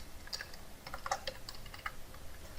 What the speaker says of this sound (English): What am I typing right now?